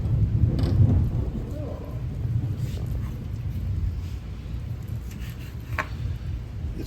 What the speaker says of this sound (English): We're in the middle of a thunderstorm